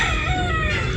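A gamefowl brood stag, a gray local banded rooster, crows loudly and up close in a single sustained call.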